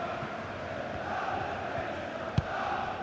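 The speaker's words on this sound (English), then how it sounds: "Well, just listen to this crowd." Steady roar of a stadium crowd in a football video game, a dense continuous wash of massed voices with one brief thump near the end.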